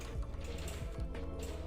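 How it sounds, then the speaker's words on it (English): The Pet Bombling in World of Warcraft patters along with fast, light mechanical clicks like keyboard typing, a steady clickety-clack over game background sound. "The clickety-clackety of his little feet."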